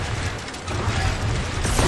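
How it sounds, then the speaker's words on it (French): Cannon mechanism grinding and ratcheting in Guardians of the Galaxy, a dense, steady mechanical clatter of gears and pawls running continuously and loud throughout. "Axe, tu peux bouger le canon?"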